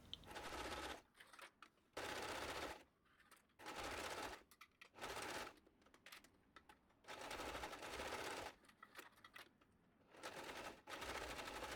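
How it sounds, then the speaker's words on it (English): Sewing machine top stitching bias binding around a summer wrap dress, running in rapid bursts of stitching separated by short pauses, close and steady. "Now we top stitch all around, securing the bias binding on the inside."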